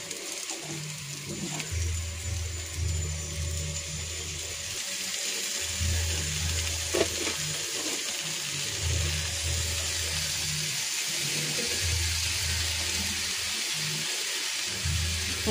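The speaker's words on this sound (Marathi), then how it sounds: "चांगले धुवून घ्यायचे झिंगे" Prawns are washed under a running tap, a steady close stream of water splashing and rushing, with a low rhythmic hum beneath it and no talk.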